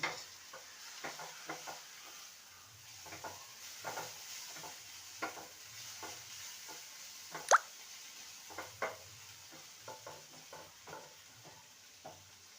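Spice paste for a bitter gourd curry being stirred and fried in a pan: a soft, steady sizzle under repeated scraping strokes of a spatula, with one sharp clink partway through, close and fairly quiet.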